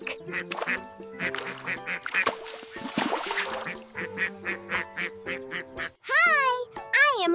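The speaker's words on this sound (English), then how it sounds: "duck." A duck gives several loud, nasal quacks, clustered toward the end, over steady musical tones, with a voice speaking nearby.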